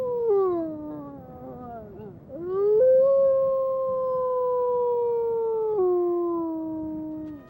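A lone wolf lets out a long, clear, wavering howl in a forest. The howl rises and falls in pitch as one sustained call close to the listener.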